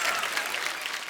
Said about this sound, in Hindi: जोरदार ताली से स्वागत कीजिए Varun Dhawan and John Abraham का